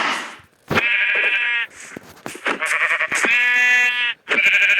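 Several loud, close sheep bleats from the video game Minecraft in quick succession, with short pauses between them; no one speaks.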